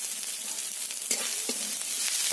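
Chopped tomato hits hot oil with fried onion and garlic in a pan, giving a steady close sizzle with a few sharp stirring scrapes and clacks, no voices.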